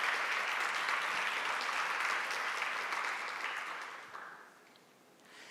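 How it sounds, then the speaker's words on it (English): An audience at a conference session applauds the sponsors, a steady wash of many hands clapping that holds for several seconds and then fades away toward the end. "So please give a big applause to our sponsors."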